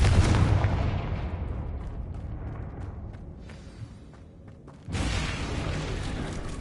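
A Confringo explosion spell in a Harry Potter video game bursts with a loud boom that decays over several seconds, followed by a second blast near the end, with no talk.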